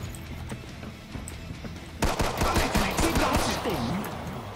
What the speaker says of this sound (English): Especially if I keep using this pistol.